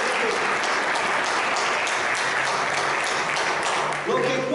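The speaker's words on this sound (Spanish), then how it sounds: "Un aplauso si ya no están aquí." A church congregation applauds during a sermon, a thick, sustained round of clapping filling the room, with a few voices murmuring faintly underneath near the end.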